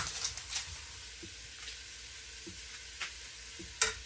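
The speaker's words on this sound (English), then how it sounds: "now I will stir that up occasionally" A ham and cabbage stir fry with vegetables hisses softly and steadily in a hot pan, with faint scrapes and taps as it is stirred now and then.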